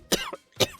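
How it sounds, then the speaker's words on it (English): Two sharp, close coughs in quick succession, each a harsh burst followed by a short raspy tail. "can't seem to get the coughing to stop."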